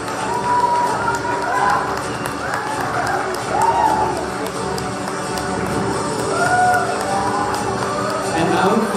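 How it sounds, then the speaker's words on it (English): A college day audience cheers and claps for an award winner in a psychology, marketing and economics program, a steady crowd roar with whoops and shouts rising over continuous clapping. "A huge round of applause for Akanksha Nora Aditya of the second semester UG Psychology, Marketing and Economics."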